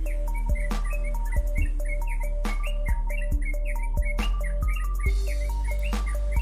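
A sooty-headed bulbul sings repeated short, bright whistled phrases close by, over a steady low hum, with occasional clicks in the background.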